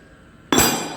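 After a brief quiet, a single sharp glassy crack rings out close by as glass is chipped with a small chisel around a 27 mm drilled hole, followed by a short bright ringing decay.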